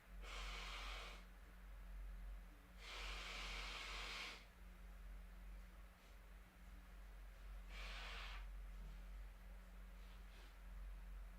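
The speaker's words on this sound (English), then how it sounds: "I'm going to go try blow my nose again." Several nose blows from a congested person, three broad hissing bursts of breath with pauses between, heard close over a steady low hum.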